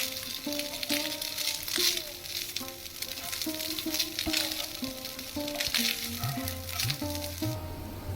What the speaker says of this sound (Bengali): আমি মোটামুটি 4 মিনিট ভেজে নিয়েছি।